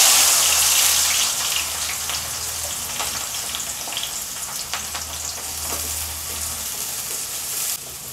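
Three large onions, sliced lengthwise, sizzle and fry in hot oil in a kadai for chicken chukka, a loud continuous hiss close by with occasional stirring scrapes.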